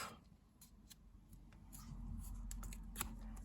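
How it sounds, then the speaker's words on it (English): A punched 2-inch paper circle being folded in half: light crisp rustles and small sharp paper clicks, close and quiet, with no talking. "so I make a 2-inch circle, and then I fold it in half"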